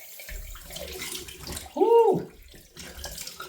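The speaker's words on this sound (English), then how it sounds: "rinse the face with cold water" Cold water from a tap is splashed onto a face in a short, close burst of gushing and splattering. A soft voice exclaims, and quiet room noise surrounds it.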